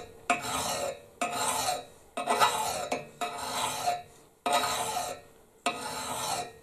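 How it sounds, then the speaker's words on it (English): A hand file rasps across a steel fire tool blade in six or seven rhythmic strokes, each a loud close scraping pass separated by short pauses. "I'm also filing away from the blade"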